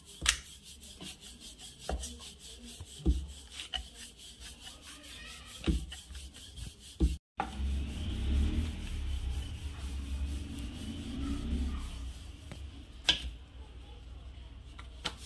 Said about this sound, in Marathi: अशी पोळी करून छान पुरी लाटून घ्यायची आहे